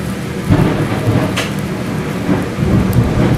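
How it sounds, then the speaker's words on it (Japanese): Loud rumbling thunder rolls over steady rain outside a restaurant kitchen, a deep sustained roar with a few sharper cracks, heard without any talk. "今すっげえ雷だったね。"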